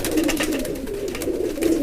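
A flock of antique Kalpare Madrasi pigeons perched in their coop coo continuously, a soft warbling drone from nearby birds lasting about two seconds with no talking.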